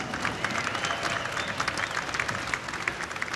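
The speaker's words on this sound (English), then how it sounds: "A well-deserved round of applause," Crowd at a professional boxing match applauding both fighters after the bout, a dense, even patter of many hands clapping at moderate distance, without speech.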